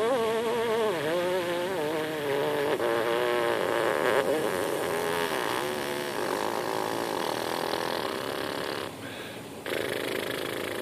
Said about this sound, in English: That was actually a triple pedal C lip buzz.